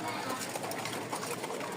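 Pigeons in a coop, including Giribaz and Bombay breeds, give soft, brief cooing over a dense hiss of background noise, with a voice faintly underneath.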